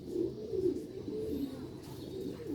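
Sialkoti pigeons coo softly and steadily, a low continuous rolling murmur of several birds close by with no talking over it.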